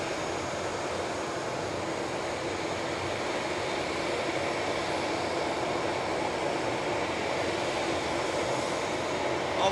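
Airliner powered by CFM56 jet engines at Manchester Airport, a steady, loud broadband jet roar holding level throughout, close by and unbroken, with no voices.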